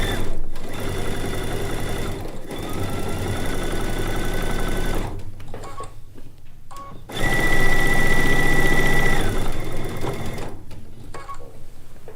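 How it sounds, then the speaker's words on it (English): A sewing machine runs steadily as it stay stitches around the perimeter of a pieced log cabin quilt top, a loud, close, continuous whirring hum with brief pauses and restarts, alone without talk. "I'm just going to feed it through. The entire perimeter all the way around the quilt."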